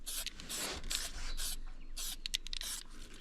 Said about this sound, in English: just got a bit of gel spray to put on the hangs, which I'll quickly do now